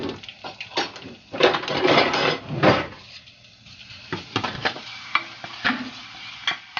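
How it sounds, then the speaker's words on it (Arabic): Garlic stirred in butter and a little oil for Moroccan bissara, giving repeated scraping stir strokes over a soft, steady sizzle, close and fairly loud, with no talking. "نحرك هذا الثومه، خطيره ريحه زوينه فيه"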